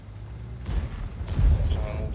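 Tank turret guns firing in a tank battle video game, two heavy, booming shots about half a second apart with deep, rumbling tails; a voice talks at the same time.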